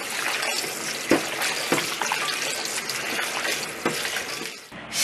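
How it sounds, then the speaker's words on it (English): Destemmed grapes are swished and washed in water for homemade grape juice, with continuous splashing, trickling and sloshing and a few sharper splashes, close and alone. "then I will wash them again to make sure I got everything off"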